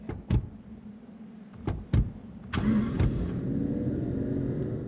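Car in Final Fantasy XV: several sharp door thunks and clicks, then the engine starts and settles into a steady, close idle hum that continues to the end, with no talking.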